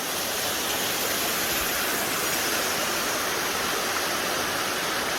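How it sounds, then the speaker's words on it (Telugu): Water released from a lake outlet at Pakhala Lake rushes along a jungle channel, a loud steady broadband roar like a stream or small waterfall, continuous and close, with no voices. "అక్కడి నుంచి రిలీజ్ చేసే వాటర్ ఇక్కడికి వచ్చేస్తున్నాయి"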